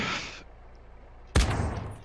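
AK rifle bursts crackle in the Red County Roleplay video game: a loud volley cuts off into near quiet, then a second heavy burst of rapid automatic fire erupts close by.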